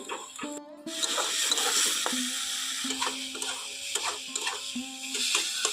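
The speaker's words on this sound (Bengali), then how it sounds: "জলটা দিয়ে খুব ভালো করে মশলাগুলোকে মিশিয়ে নিয়ে কষে নেব" Spices for a spinach and potato dish cook in a pan with a little added water, a faint sizzle under scattered scraping and tapping of the spoon against the pan, with a background tone.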